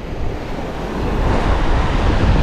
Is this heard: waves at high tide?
yes